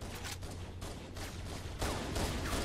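Sustained rapid gunfire in Halo: Combat Evolved, a dense continuous burst of shots with no pause, growing slightly louder toward the end.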